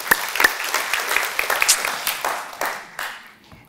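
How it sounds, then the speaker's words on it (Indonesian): A church congregation at an Easter service applauds, a dense burst of many hands clapping that stays lively, then thins and fades toward the end, with no talk over it. "Berikan tepuk tangan untuk Tuhan."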